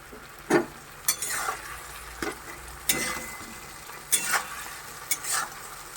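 Tomatoes go into a pan of spiced potatoes frying in masala, giving a loud sizzle with several sharp bursts and stirring scrapes at irregular intervals; no voice is heard.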